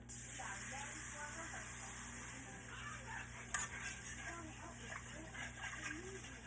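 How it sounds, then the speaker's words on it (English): A whisk stirs milk into a roux for gravy in a home kitchen, giving a soft, steady swishing and sloshing that sits faint under a constant background hum, with an occasional light clink against the pan. "I'm going to cook this while whisking for about a minute"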